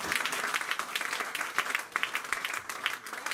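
A church congregation bursts into dense, sustained applause, a steady wash of many hands clapping with faint crowd voices beneath.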